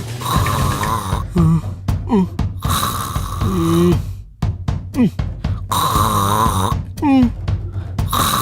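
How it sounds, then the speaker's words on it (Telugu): Loud, rasping snores repeat in a steady rhythm, each long rattling inhale followed by a wheezy exhale, close by. "మీ అమ్మ గురక పెడుతుందా, గూడ్స్ ట్రైన్ నడుపుతుందా?"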